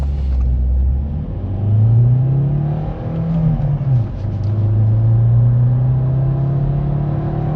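A Kia Cerato 1.6 CRDi diesel car pulls away and accelerates hard, its close, loud engine drone rising in pitch, dipping briefly at gear changes before climbing again. No one speaks.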